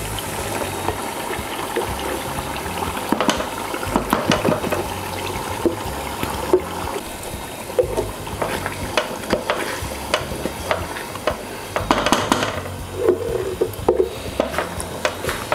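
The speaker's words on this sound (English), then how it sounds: "At this point, I'm going to add my blended onions, ginger and garlic together." Blended onions, ginger and garlic frying in oil for shito, Ghanaian hot black pepper sauce, stirred steadily, giving a continuous close sizzle with repeated scraping strokes and wet bubbling.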